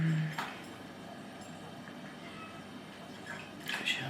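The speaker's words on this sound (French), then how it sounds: "j'ai Socrate qui miaule de l'autre côté" A cat named Socrate meows from another room in a home kitchen, brief faint calls near the start and again toward the end over quiet background.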